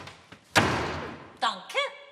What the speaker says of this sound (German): kann ich jetzt die Tür zumachen